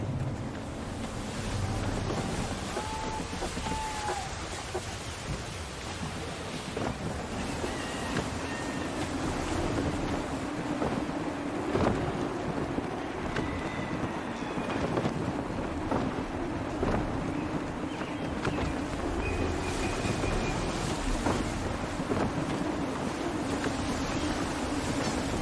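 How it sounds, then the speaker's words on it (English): Gusty wind and crashing waves while sailing a ship in the game Assassin's Creed III, a steady loud roar of surf and wind buffeting throughout with occasional deeper rumbles. "Gusty winds can be difficult to manage."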